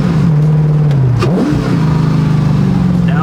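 A 2011 Factory 5 GTM engine revs and accelerates at close range, a loud steady drone that dips briefly at about 1.3 seconds before climbing again.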